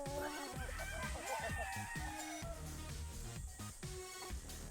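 Gamefowl roosters at a game farm crow and cluck in a busy overlapping chorus, several birds close and loud with others farther off, the calls continuing over steady background noise.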